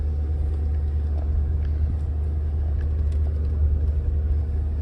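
A 1991 Ford Econoline conversion van with 91k miles rolls along, its engine and tyres making a steady low rumble inside the cabin with a faint hum and small rattles over it.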